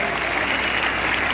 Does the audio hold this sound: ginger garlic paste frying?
no